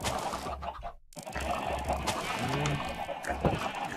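Minecraft chickens cluck briefly over a busy background of game sounds, a few short fowl calls in the middle.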